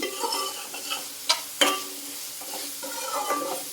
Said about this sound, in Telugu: మధ్య మధ్యలో కలుపుకుంటూ ఫ్రై చేసుకోవాలండి లేదంటే అడుగు పట్టేస్తుంది